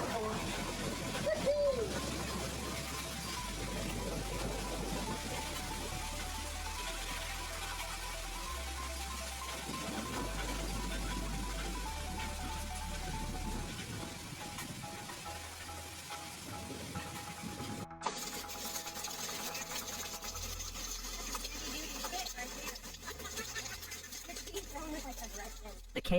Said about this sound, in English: the deafening roar of hail hitting metal rooftops and cars